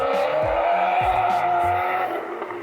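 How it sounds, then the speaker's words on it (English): A loud motorcycle passes on a street, its engine note roaring and sweeping with shifting pitch, close and fairly loud, then fading slightly toward the end. "there's a loud motorcycle."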